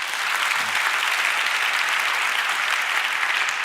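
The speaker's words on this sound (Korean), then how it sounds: "하나님께 영광의 박수 한번 올려드리시죠." A church congregation applauds in a dense, steady wash of clapping that holds evenly from start to finish with no voices above it.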